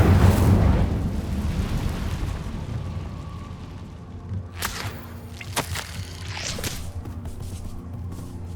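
A fire spell is cast in the Hogwarts Legacy video game, opening with a loud rushing burst of flame that fades into a rumbling ambience, followed by several sharp crackling bursts later on.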